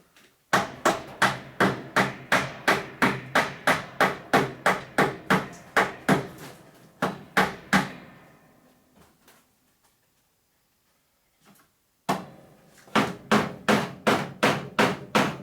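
Rapid, regular hammer blows ring out in a long steady run, pause into near silence, then resume briskly; sharp and close.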